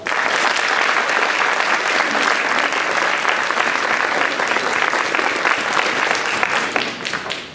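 A school ring ceremony audience breaks into loud, sustained applause, a dense wash of many hands clapping at once that holds steady for about seven seconds before cutting off.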